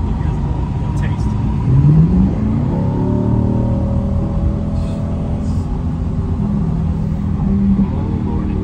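Rear-engined Corvette revving and pulling away on a road in Las Vegas, a loud rising engine drone with shifting pitch as the car accelerates, heard from inside while someone talks excitedly over it.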